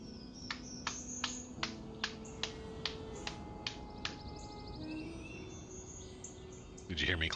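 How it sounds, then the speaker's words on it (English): A single person claps hands into a microphone during a mic test, producing a series of about ten crisp, evenly spaced claps over a faint background with some tonal chirps, followed by a louder rustle at the end. "Did you hear me clapping at all?"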